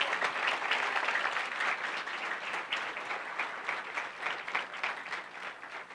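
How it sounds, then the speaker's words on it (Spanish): An audience applauds after a veterinary management session, with steady, dense clapping filling the whole stretch at moderate volume and no voices over it. "de nuevo un aplauso para él"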